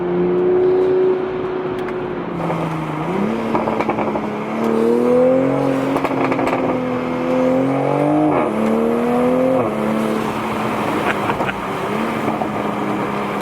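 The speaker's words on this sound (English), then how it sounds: "I can hear some blow-off noise and just a little bit of an induction noise." A Toyota Supra engine revs up and down repeatedly with rising and falling pitch, accompanied by whooshing turbo induction noise and a faint blow-off whistle, sustained and fairly loud.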